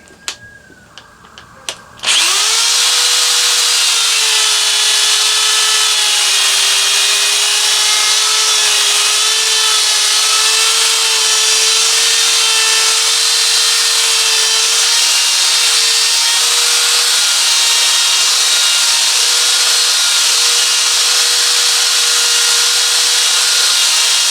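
A power drill whirs up and grinds steadily through wood for a long stretch, re-drilling and widening a hole for a dowel rod, loud and close, with a constant high whine.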